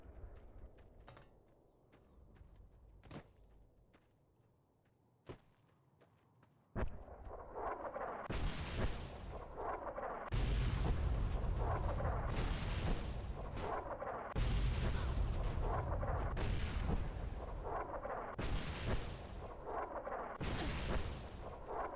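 Repeated heavy explosions in a video game: after quiet sparse clicks, a series of loud booming blasts roughly every two seconds, each a broad roaring burst, close and dominant.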